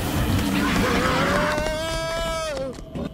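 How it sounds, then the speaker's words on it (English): Squealing pigs in the horror video game Devour, a loud drawn-out animal cry rising and falling over busy game noise, with players talking nearby. "There's fucking pigs everywhere."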